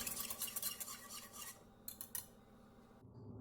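Cold milk with cornflour slurry being stirred in a pan for a gulab jamun pudding pie, a steady scraping and clinking of a spoon against the vessel, close and fairly quiet, with no voices.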